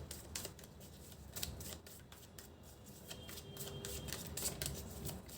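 Tarot cards are shuffled steadily and close by, with a soft, continuous riffling patter of papery flicks and no talk over it.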